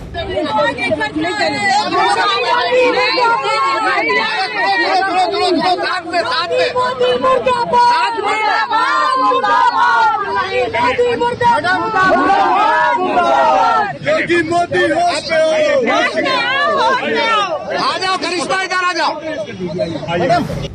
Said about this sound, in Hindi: तमाम जो भीड़ कानपुर की जनता वहां पर उमड़ी थी, उन्होंने मोदी और योगी मुर्दाबाद के नारे लगाए थे